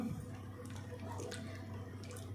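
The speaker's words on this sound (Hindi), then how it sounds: "अब हम इसमें पानी ऐड कर देंगे" Water pours steadily into fried masala in a pot for mutton curry, a soft continuous splashing and trickling over a low background hum.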